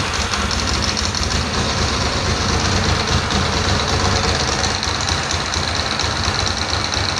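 A Ducati 888 motorcycle, restored after 24 years in storage, runs on only two cylinders with a steady, rough, knocking idle close by. The engine drone continues without a break, and no one speaks over it.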